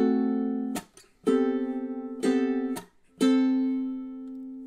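Ukulele strummed with accented, louder chords for measure five, the start of the B melody, in four sharp strums that ring out with a short gap between them, played alone and close.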